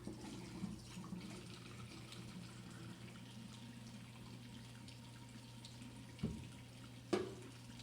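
Tap water runs steadily into a lab sink while glass chemistry beakers are rinsed, a low continuous wash with a couple of brief louder splashes near the end, no talking.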